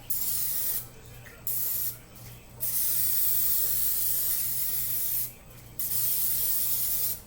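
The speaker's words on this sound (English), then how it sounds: "I'm going to give my pan a nice coat of kitchen spray." Canola oil kitchen spray hisses from a can onto a pan in four bursts: two short spritzes, then a long steady spray and one more, with brief quiet gaps between.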